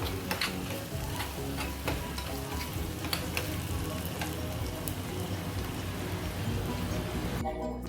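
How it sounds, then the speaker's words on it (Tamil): Cashews, cardamom and raisins roasting in a pan give a steady, close sizzle and crackle, with scattered light clicks of stirring throughout and no voices. "அது கூட ஒரு 10 முந்திரி, பத்திரி, திராட்சை இதை நல்லா போட்டு வறுத்து வச்சுக்கலாம்"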